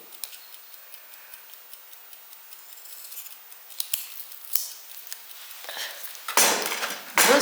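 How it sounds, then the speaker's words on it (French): Big scissors cutting double-sided tape for a model kit, with a run of small crisp snips and ticks building to two louder, longer cuts at the end, close by with no talking. "Pour les gros ciseaux."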